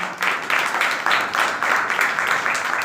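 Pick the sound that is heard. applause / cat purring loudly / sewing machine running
applause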